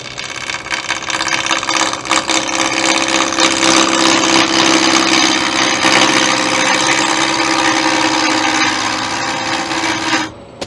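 Wood lathe turning a winged bowl with a gouge, a steady loud rasping cut over the motor's hum for about ten seconds, then stopping abruptly near the end.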